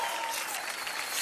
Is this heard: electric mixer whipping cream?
no